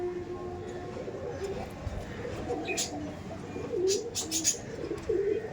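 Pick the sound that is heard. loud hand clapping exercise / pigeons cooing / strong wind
pigeons cooing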